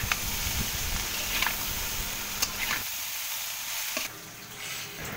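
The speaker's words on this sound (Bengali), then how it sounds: "এই তো পেঁয়াজ, রসুন, কাঁচামরিচ এখন দিয়ে দিলাম। শাক দিয়ে নাড়াচাড়া করে ঢাকনা দিয়ে রেখে দিব।" Onion, garlic and green chili fry with greens in a pan, giving a steady close sizzle with scraping stirs, then the sizzle quietens partway through.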